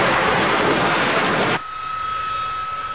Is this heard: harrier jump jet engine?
yes